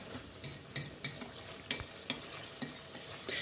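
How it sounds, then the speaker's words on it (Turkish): Tomato paste fries in a pan with hot water added while a utensil stirs it, sharp scraping clicks recurring every half second or so over a low, steady sizzle; no one talks. "Salçamız da güzel kavruldu."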